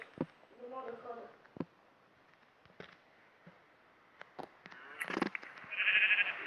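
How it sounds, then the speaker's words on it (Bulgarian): Sheep in a video game bleat in short, thin bursts spread among quiet gaps and sharp clicks, with a louder noisy passage near the end. "Къде е тази овца? Тъпа овца."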